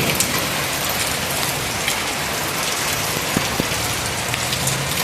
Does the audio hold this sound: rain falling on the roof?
yes